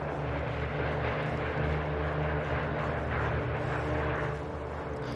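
P-39 fighter planes in a WW2 armor battle video game drone with a dense, steady aircraft engine roar that holds at an even loudness throughout, with no talking.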